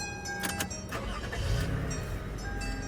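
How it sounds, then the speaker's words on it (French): A Lexus RX350 SUV starts up on a newly programmed key, its engine catching and settling into a steady idle with a low rumble and faint ticking, heard close with no talk. "Notre véhicule démarre avec sa nouvelle clé."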